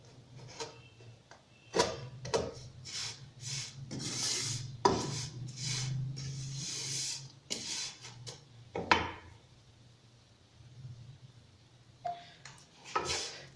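Brown sugar, coconut powder and vermicelli stirred in a pan for a kunafa dessert, giving repeated close scraping and rubbing strokes of a spoon against the pan, loud bursts separated by short pauses, with a faint steady hum underneath.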